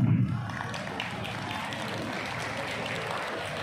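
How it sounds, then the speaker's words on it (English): A crowd claps in a steady, moderate round of applause at an Independence Day school celebration, continuing evenly throughout, slightly distant in a large room. "Please give a big round of applause for him."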